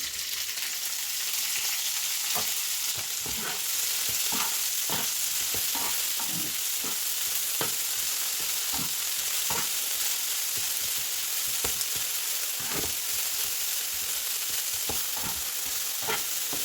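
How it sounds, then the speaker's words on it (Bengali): Dried shrimp sizzle in oil in a frying pan, a constant close hiss punctuated by regular scraping taps of a spatula stirring them, with no talking. "এখন আমি দিয়ে দিচ্ছি এই যে শুটকি চিংড়ির শুটকিগুলো দিয়ে দিচ্ছি"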